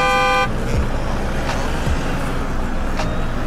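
Steady roar of road traffic with trucks passing on a road at a nomadic roadside camp, broadband rumble throughout with a few brief horn-like tones and a short tonal whine at the start.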